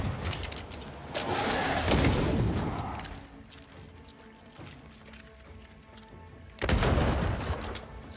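Gunfire in the video game Banishers: Ghosts of New Eden, with loud blasts at the start and again near the end, a quieter stretch of ambient rumble between them.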